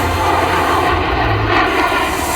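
Rafale fighter jet engine: a loud, steady roaring whine filling the soundscape, constant and close, with no talk.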